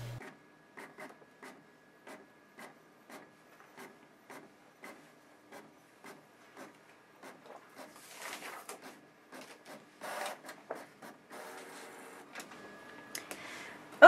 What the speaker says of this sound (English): my printer's going to go ahead and print it out